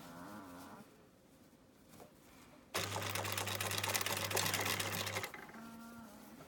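A sewing machine runs in one steady burst of about two and a half seconds, stitching along a fabric pencil pouch, with quiet room sound before and after.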